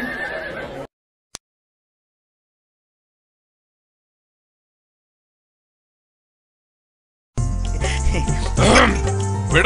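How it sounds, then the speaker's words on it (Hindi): A horse whinnies in a comedy commercial set by a main gate: a short burst, then silence, then a louder stretch of neighing and snorting near the end. "GK9211 जिसके घोड़े का नंबर है, बराए मेहरबानी अपना घोड़ा मेन गेट से हटाकर सही जगह पार्क कर लें।"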